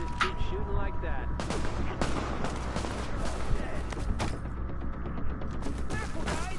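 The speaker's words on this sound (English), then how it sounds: "You just keep shooting like that." Gunfire from The Division sounds in sharp, loud shots, some isolated and some in rapid clusters, over a steady game background with voices talking underneath.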